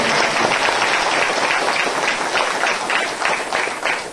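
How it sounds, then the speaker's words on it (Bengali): A church congregation claps loudly together during a Bengali worship service. Dense, continuous applause fills about four seconds, strong and close, with no break. "জোরে তালি বাজিয়ে আমরা ঈশ্বরের মহিমা করি।"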